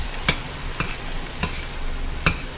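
Garlic stirred into a roux in a pot, with four distinct scraping strokes of a utensil spaced about half a second apart over a low, quiet cooking hiss; no talking.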